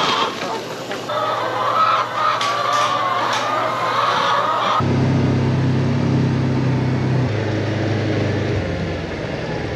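Chickens cluck and murmur close by, with a steady mechanical hum running underneath and a rooster-like call mixed in.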